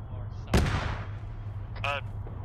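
An autocannon in ArmA 3 fires a single sharp, heavy report partway through, over a low constant rumble of vehicle noise, with a brief voice transmission near the end.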